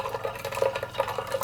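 Water trickles and splashes as it is poured to top off a drink being made in a kitchen, a short run of light, uneven liquid gurgles at close range.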